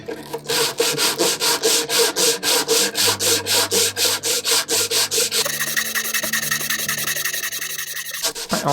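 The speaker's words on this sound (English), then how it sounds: "I just need to sand the sides and the back and the bottom and the top" Steady back-and-forth rubbing of sandpaper on a wooden piece, its sides, back and top worked by hand in quick regular strokes, close and continuous with no talking.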